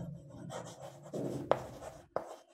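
Pen writing on paper during a Class 5 math lesson on square area, soft scratchy strokes with a couple of sharp taps, close and quiet with no talk.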